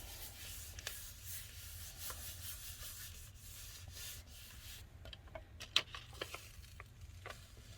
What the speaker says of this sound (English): So I'm going to just kind of rub it in a little bit more.